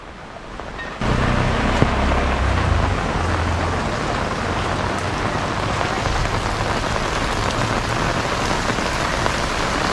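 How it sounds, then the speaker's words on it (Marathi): Heavy rain pours near Bhaje waterfall in Malavali, Lonavala, starting abruptly as a loud, continuous roar of drops on surfaces that stays close and steady with no talk. "खूपच पाऊस आहे."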